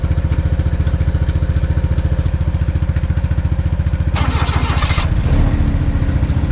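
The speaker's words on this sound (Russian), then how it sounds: "Сейчас посмотрим, как двигатель К6А запускается." Suzuki K6A engine on a karakat all-terrain vehicle cranks and fires up, settling into a steady, loud close idle with a rhythmic chugging pulse and a brief rise in noise partway through.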